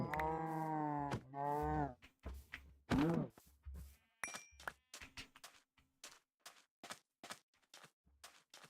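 Sheep in the GTNH Minecraft modpack, a video game, give a couple of close, wavering bleats, followed by a run of dull thunks and short game sounds at an even pace.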